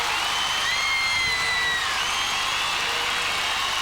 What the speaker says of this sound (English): listen to the screams from the young fans here in Madrid